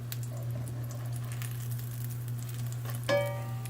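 Puffball mushrooms frying in a pan of bacon grease, a soft steady sizzle with light crackle and patter throughout, close and moderately quiet, with a brief louder clink near the end.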